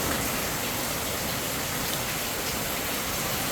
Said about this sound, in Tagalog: Tuloy-tuloy at saka malakas na ulan ng bagyong Karina.